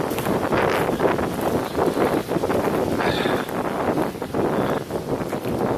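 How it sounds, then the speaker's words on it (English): Strong wind of roughly 20 to 30 mph blowing through woodland trees at Homefield Wood, a loud, steady rushing roar with gusty swells and buffeting against the microphone throughout. "This is at least 20, 25, 30 mile an hour wind."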